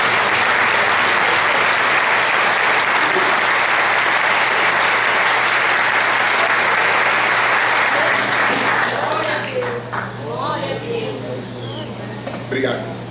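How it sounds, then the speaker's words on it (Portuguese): Church audience applauding loudly and continuously during a sermon, a dense sustained wash of clapping that thins out near the end as a voice begins speaking. "Você pode aplaudir a Jesus?"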